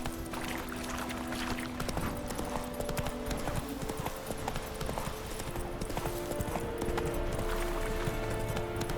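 Roach, Geralt's horse in The Witcher 3, clip-clops steadily at a gallop, hooves drumming in a continuous busy rhythm amid dense game ambience, with no one speaking.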